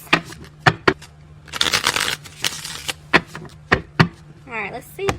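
Tarot cards are shuffled by hand in bursts of riffling and flicking, mixed with sharp taps and knocks of the deck against a surface, close and fairly loud.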